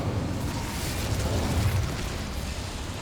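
An Incendio fire spell in Hogwarts Legacy, cast inside a small mine, gives a steady, loud, close whooshing roar of flame with a low rumbling body lasting about three seconds.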